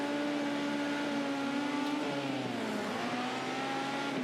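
Simulated dirt-track race car engine from a World of Outlaws sprint car game, a steady loud drone whose pitch dips and shifts mid-clip as the car snaps through a corner, with no talk over it.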